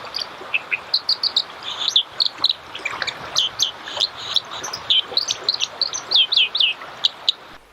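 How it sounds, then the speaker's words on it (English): A dipper, the UK's aquatic songbird, sings a rapid run of high, sweet chirps and trills near the Lake District waters, fairly close and continuous over a soft background. "They have a beautiful bird song which is playing now."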